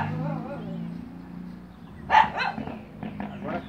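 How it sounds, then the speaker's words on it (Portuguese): A dog barks a few times at a distance, short yips and woofs sounding under someone talking nearby. "Agora cachorro latindo é tudo."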